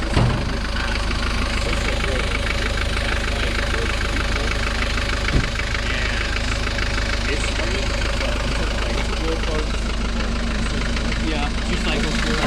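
A 1982 Mercedes car engine idling steadily in below-zero cold after starting, a loud continuous mid-low drone with a brief knock partway through, close up and running on its own.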